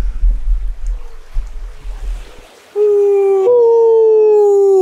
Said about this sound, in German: Hörst du das? Jo. Das sind Wölfe.